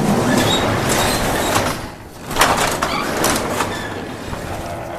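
An old, poorly balanced garage door rolls open on worn rollers, a continuous grinding rumble with squeaks and rattles that dips briefly and then resumes, close by with no talking.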